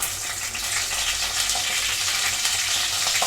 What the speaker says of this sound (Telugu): ఇలా కాసేపు వేయించుకోవాలి.